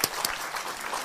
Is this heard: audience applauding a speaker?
yes